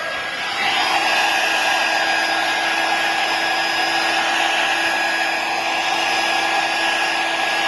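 A heat gun blows steadily on an iPhone glass screen during repair, a constant close, airy whir with a fixed electric hum beneath it, running uninterrupted with no talking.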